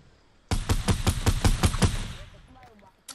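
Loud burst of rapid automatic gunfire in a video game, aimed at shooting down a launch pad: about eight sharp evenly spaced shots, then a fading tail and a brief faint clatter at the end.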